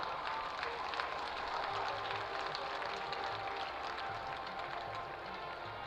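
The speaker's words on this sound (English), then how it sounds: "Let's give one more round of applause for our underclassmen homecoming court." A crowd at a high school football homecoming claps for the underclassmen court, a steady, distant wash of applause across the field that carries evenly from start to finish with faint crowd murmur.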